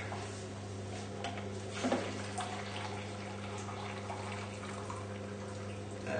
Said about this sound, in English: and refill my measuring jug.